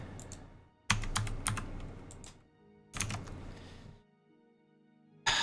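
A backlit computer keyboard clatters in several bursts of rapid key presses separated by pauses, close and fairly loud, at a gaming setup.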